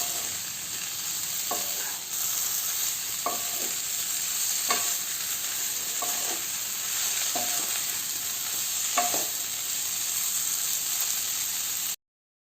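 Boiled potato pieces are stirred slowly in a frying pan under a steady loud sizzle, with about half a dozen clear spoon scrapes at uneven intervals.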